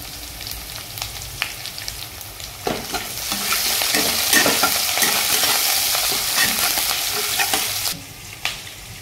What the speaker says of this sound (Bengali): এবং দিয়ে দিচ্ছি গ্রিন চিলি, সঙ্গে দিয়েছি ড্রাই চিলি, দিচ্ছি কারি লিভস।